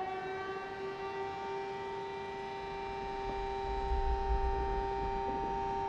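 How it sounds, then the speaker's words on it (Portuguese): A steady, droning siren wails with sustained tones over a low rumble that swells toward the end in the video game Frostpunk 2; no one speaks. "A sirene tocou."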